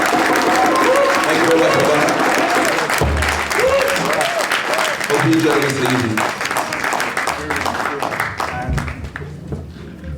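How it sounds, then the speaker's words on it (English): Round of applause from an audience at a political talk event, sustained clapping spread across the room while someone speaks over it, tapering off toward the end. "A round of applause for my sister."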